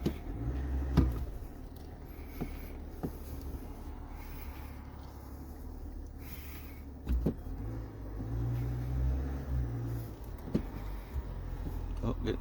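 A pickup truck manoeuvring into position for trailering at a provincial park, its low engine hum steady with a few soft knocks and clicks, while a person talks over it.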